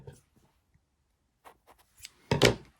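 Scissors snip through a crochet yarn tail on a finished amigurumi piece, a short crisp cut near the end following a few faint rustles and taps, close and alone.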